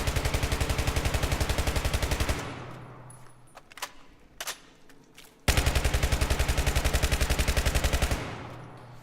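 Rifle magazines are emptied in Battlefield 3: two long bursts of rapid automatic gunfire, each lasting a couple of seconds, separated by a pause with faint clicks and shell clinks.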